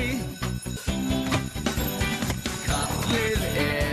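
An alarm bell rings in a Fireman Sam cartoon, a bright continuous ringing mixed with music and busy cartoon sound.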